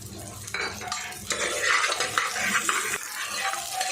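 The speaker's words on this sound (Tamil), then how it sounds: "இதில் ரெண்டு பெரிய வெங்காயத்தை கட் பண்ணி வச்சுருக்கேன் அதில் சேர்த்துக்குவோம் சேர்த்துட்டு லேசாக வதக்கிக்குவோம்" Chopped onions sautéed in a pan with a utensil, loud close scraping and stirring strokes over a soft sizzle, continuous and busy without any talk.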